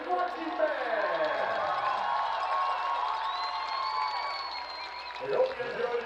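A stadium crowd cheers and applauds for a high school marching band at a football halftime show, a sustained roar of clapping and shouting with a faint announcer voice over it, swelling again near the end.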